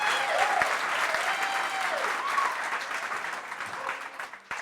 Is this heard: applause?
yes